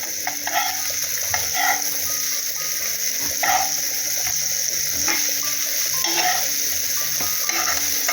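Small bombil and mandeli fish pan-fry Malvani style over a low gas flame, giving a steady soft sizzle broken by scattered clicks and scrapes of the pan, with no talking.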